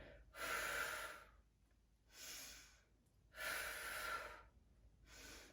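Slow diaphragmatic breathing during a core exercise: four long, close breaths alternate inhale and exhale, each lasting about a second, with quiet pauses between and no talking.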